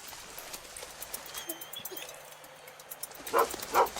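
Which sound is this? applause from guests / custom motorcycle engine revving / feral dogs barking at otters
feral dogs barking at otters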